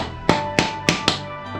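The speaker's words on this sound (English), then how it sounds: "I hit a little bit by my rubber hammer" A rubber hammer taps a steering stabilizer into place on a Honda CRF450RL enduro motorcycle in a garage, four distinct, fairly loud blows spaced evenly about a third of a second apart, close up with no talking.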